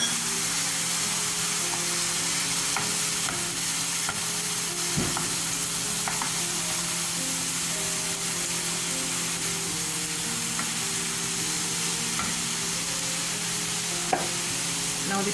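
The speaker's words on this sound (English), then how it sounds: "after about 2 minutes, I am going to now add the rice" Rice stir-frying in a pan for beetroot seasoned rice, a steady close sizzle with a few scattered clicks and scrapes of a utensil, no talking.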